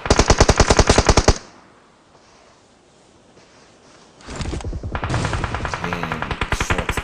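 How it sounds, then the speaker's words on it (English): Rapid automatic gunfire in a video game battle, in loud dense bursts that stop briefly and then resume, continuous and close with no talk. "shots are being fired across every direction possible"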